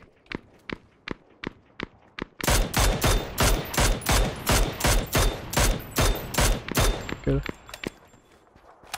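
Enemy gunfire in PUBG Battlegrounds on the Miramar desert map, a steady string of loud, evenly spaced single shots that grows heavier midway before fading to softer thuds.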